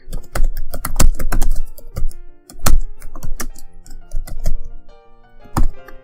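Typing on a computer keyboard, a close run of sharp key clicks in uneven bursts with brief pauses between them, heard alone.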